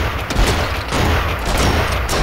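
Sniper rifle fire in the video game Cortex Command, a loud, dense wash of gunshot blasts that runs almost unbroken for a couple of seconds.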